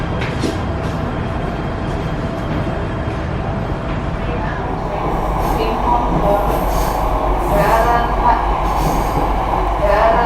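Jakarta MRT subway train running between Lebak Bulus and Fatmawati stations, a steady loud rumble of wheels and motors inside the car that swells in the second half, with faint squeals and clatter.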